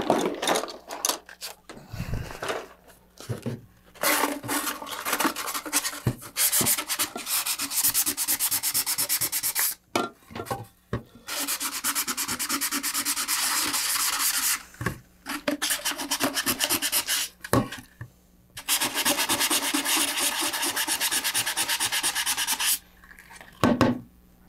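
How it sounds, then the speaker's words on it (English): Sandpaper scrubs a burr off freshly drilled rivet holes on a level 2 model rocket part, giving loud, close rasping strokes in long bursts separated by brief pauses, with no talk. "I'm going to take some sandpaper and sand that off"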